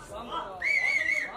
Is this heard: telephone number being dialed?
no